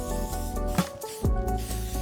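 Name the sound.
hairspray being sprayed onto hair waves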